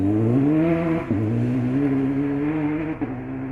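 A Citroën DS3 R3T rally car drives a stage at the Rallye de Ferrol, its engine holding a loud, steady buzzing drone with two brief dips where the driver lifts off or shifts gear.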